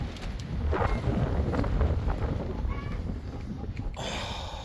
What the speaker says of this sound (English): The wind is blowing, and I got a problem tree here.